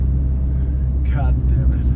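A 1.5 litre car engine labours up a steep incline while towing a caravan in the Dolomites, Italy, giving a loud, steady low drone throughout, with a brief muffled voice rising over it midway.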